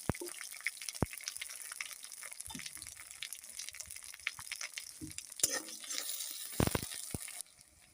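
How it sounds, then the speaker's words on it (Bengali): Duck meat and onions fry in mustard oil in a pan, giving a steady close crackling sizzle with scattered pops and a few sharper bursts near the end. "এই যে সরিষার তেল দিয়ে রান্না করবো হাঁসের মাংস, খুব ফেনা হচ্ছে"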